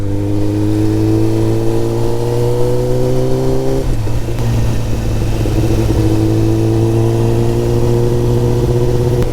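A Kawasaki Ninja ZX10R motorcycle is ridden slowly on the road, its engine droning loud and close, rising in pitch through the revs, dropping at a gear change, then climbing again.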